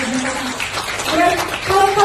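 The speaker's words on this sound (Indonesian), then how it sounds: "Kasih tepuk tangan dong." An audience claps and applauds at a testimonial talk, a brief, moderately loud patter of hands mixed with voices talking over it.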